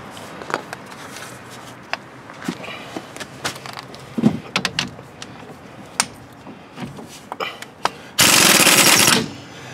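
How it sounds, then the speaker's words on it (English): A pneumatic impact gun loosens a bolt near the caliper of a Hyundai Elantra during an axle job, firing one loud sustained rattling burst of about a second after scattered clanks and knocks of tools in a garage. "I'll take and stick my impact gun on her."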